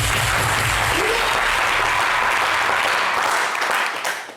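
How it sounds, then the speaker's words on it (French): An audience in a TV studio gives loud, sustained applause, a thick roar of many hands close by that stays level and then thins out toward the end, with no talking. "On applaudit pour Zaouli."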